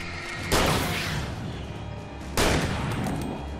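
Two heavy shotgun blasts in the video game Alan Wake, each a loud sudden boom with a long rumbling tail, spaced about two seconds apart.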